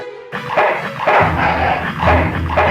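A dog barks in the video game Full Throttle Remastered: several loud, close barks and yips in an uneven rhythm, with no talking.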